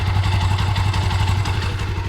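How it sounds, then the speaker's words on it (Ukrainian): A carbureted motorcycle engine runs on its own in cold weather with a fast, even, thumping idle and a metallic clatter. It is close and loud, and no voices are heard. "коли в такому положенні мотоцикл попрацює трішки"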